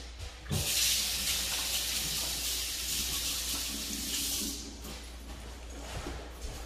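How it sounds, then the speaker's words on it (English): Tap water runs steadily into a sink while hands are washed, a loud continuous hiss lasting about four seconds before easing off into quieter trickles and faint handling noises. "I'm going to wash my hands, keep them wet"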